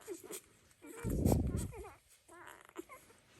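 A Dalmatian mother with six-day-old puppies makes soft, high whimpering whines close by, broken by a brief louder rustling burst in the middle, all fairly quiet.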